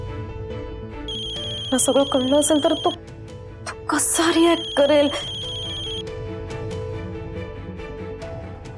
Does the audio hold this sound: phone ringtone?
yes